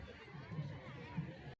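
A crowd fills Ambedkar Park in Lucknow during an evening Ambedkar Jayanti celebration, a steady murmur of many distant voices and footsteps at a moderate, even level, cutting off abruptly at the end.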